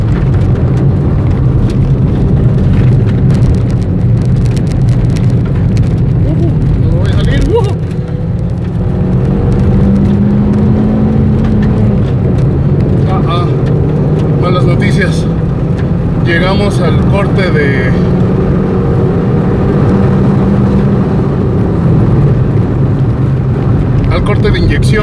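A car engine revving hard on a race track, its loud droning roar rising and falling in pitch as it strains toward the injection cut-off, with a person talking over it.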